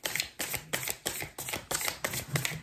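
Repeated riffle shuffles of a tarot card deck, about seven crisp bursts in a steady rhythm, close and quiet with no talking.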